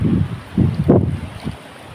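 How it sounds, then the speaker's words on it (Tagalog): Strong sea waves at a beach in Batangas, past Mabini, surging in several loud rushing bursts mixed with heavy wind buffeting the microphone, with no talking. "Medyo malakas yung alon kaya mas masarap maligo nito."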